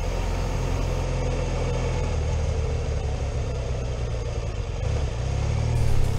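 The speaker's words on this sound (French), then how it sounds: "Et dès que le moteur accélère, la valve s'ouvre à nouveau." BMW R1200GS motorcycle engine revving with its exhaust valve opening, a steady close mechanical drone with low rumble that swells slightly toward the end, no voices.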